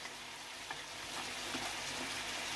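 Cabbage fries in a pan for bihon guisado, giving a steady, dense sizzle with faint stirring clicks. It is fairly quiet and continuous, with no voices.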